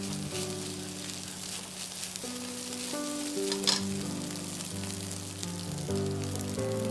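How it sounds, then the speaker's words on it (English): Rice and char siu stir-fried over high heat crackle with a steady, close sizzle, broken by occasional ladle scrapes, while tonal background music plays along and no one speaks. "Stir fry on high heat and separate each grain."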